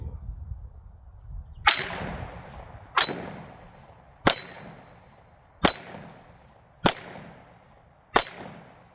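A PSA Dagger pistol fires six evenly spaced shots at steel dueling tree targets, each a sharp crack with a ringing metallic clang that fades away, loud and distinct with no talking.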